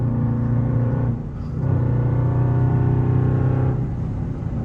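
Steady low engine drone and road rumble from a Dodge Charger Scat Pack cruising on a highway, continuous and close, with a brief dip in level near the start and no talking.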